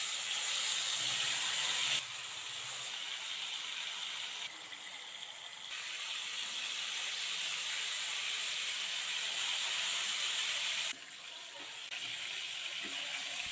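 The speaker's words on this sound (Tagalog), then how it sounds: "Bali ipiprito ko nga itong mga liempo." Pieces of pork belly (liempo) fry in hot oil, giving a continuous hissing sizzle that holds steady across the whole stretch, with slight shifts in intensity and no talking.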